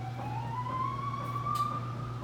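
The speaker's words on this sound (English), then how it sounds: "that was an ambulance that just came by" An ambulance siren passes by outdoors, one steady rising wail held at moderate distance throughout, with no talking.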